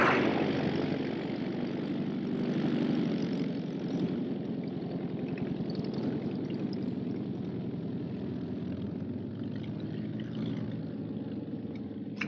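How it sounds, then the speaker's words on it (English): A propeller pickup plane comes in for a landing, its steady engine drone sustained and fairly loud throughout, slowly shifting in tone as it passes close by, with no voices over it. "he's coming in for a landing. The swine. That's a pickup plane."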